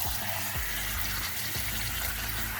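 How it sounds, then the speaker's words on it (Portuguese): Water from cooked mussels poured off and drained in a home kitchen while preparing seafood yakisoba, a steady close splashing and trickling stream that runs alone without talk. "a gente vai jogar a água do mexilhão, escorrer bem ele"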